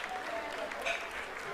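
A crowd applauds steadily during the Chandrayaan-3 lunar soft landing, a dense wash of clapping heard from a moderate distance throughout.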